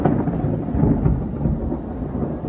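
Deep rumbling thunder rolls loudly and continuously, heavy low booms fading slightly at the end, with no voices.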